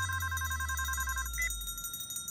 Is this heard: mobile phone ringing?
yes